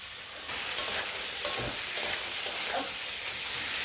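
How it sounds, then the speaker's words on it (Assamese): Chickpeas fry with ground spice paste in a pan, sizzling and hissing steadily up close, with a few sharp clinks and scrapes from a stirring spoon. "আৰু এতিয়া মই মছলাখিনিৰ সৈতে বুটখিনি ভালকৈ ফ্ৰাই কৰি ল'ম।"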